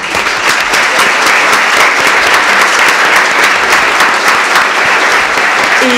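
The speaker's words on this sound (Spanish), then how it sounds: "Les pido un aplauso para ella" Dense, steady audience applause fills a hall at a Spanish-language literary talk, loud and continuous throughout with no gaps, one faint voice briefly audible under it near the end.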